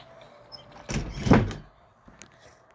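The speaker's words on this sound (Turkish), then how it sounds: "Kendi kendine kapı açıldı." A door swinging open by itself in the PK XD game, a single close sliding whoosh that swells and fades within about a second, followed by a faint click.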